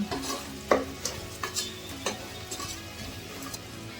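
Kitchen king masala frying in a pan with capsicum rice ingredients, stirred with scraping clinks and scrapes over a steady close sizzle, no voices.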